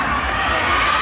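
Fans in a crowd at a fan meeting shout and cheer together in a brief, sustained, loud wash of voices with no breaks.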